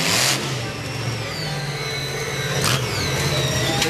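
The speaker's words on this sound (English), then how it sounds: "The truck's a 34 Ford sedan, and Payne whipping it into some donuts right in front of the crowd" A monster truck with a 1934 Ford sedan body revs its engine hard while spinning donuts in an arena, a loud continuous roar with rising and falling pitch and sharp bursts near the end.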